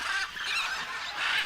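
Wild birds calling, a flock's loud, honking goose-like cries that overlap in repeated bursts over a second and a half, close and without any speech.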